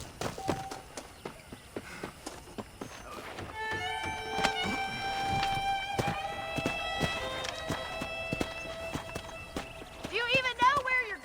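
Horses walking in the video game Red Dead Redemption, with a steady clip-clop of hooves, a whinny near the end, and tonal sounds humming in the background.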